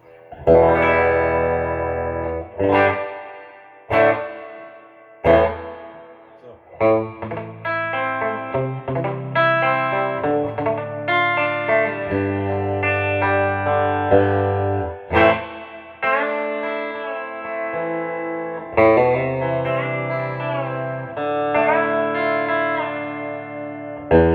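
Guitar chords through a 1971 Fender Princeton amp with reverb turned all the way up ring out in heavy, washy reverb, each strum trailing off into a long echoing tail. The playing is loud and continuous, with no talking.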